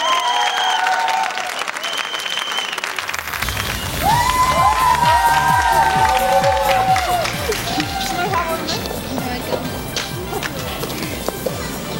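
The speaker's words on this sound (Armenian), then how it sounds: "Եկեք եւս մեկ անգամ ծափարենք եւ ճանապարհենք" Loud applause and cheering swell from a studio audience at a televised gala show, dense clapping running throughout while a presenter speaks over it and excited shouts rise midway.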